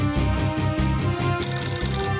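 A cartoon telephone rings with a loud, steady electronic trill in rapid repeating pulses, alone with no talking over it.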